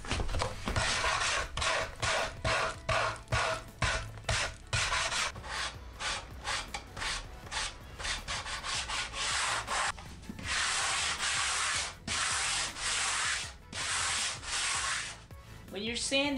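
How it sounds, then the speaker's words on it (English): Long, vigorous sanding strokes rasp back and forth up close on a wooden surfboard stringer, some quick and choppy, others sustained sweeps, with no voices. "When you're sanding this, make sure to do long, even passes."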